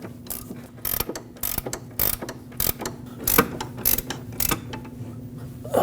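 Ratchet wrench tightening a front lower control arm mounting nut on a Lexus IS250, sharp clicking bursts repeating in uneven strokes close to the mic, with no talking.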